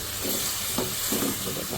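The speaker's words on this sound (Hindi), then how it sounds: "इन सब मसालों के साथ हम चिकन को जो है वो 2 से 3 मिनट भूनेंगे" Chicken frying with spices in a handi, giving a soft sizzle with a few stirring scrapes, close and moderately quiet.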